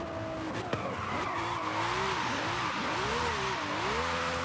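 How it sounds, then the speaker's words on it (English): An all-wheel drive car on sticky tires drifts in the Forza Horizon 5 racing game, a sustained loud tire squeal rising and falling in pitch over a steady engine drone, heard alone and close. "A little hard to drift in an all-wheel drive car, especially with these sticky tires, but we slid it nonetheless."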